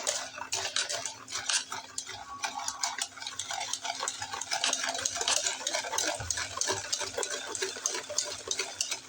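A hand whisk beating cake batter of oil and milk in a bowl, a rapid, continuous clinking and stirring against the bowl's sides, close and busy with steady rhythm and no talking.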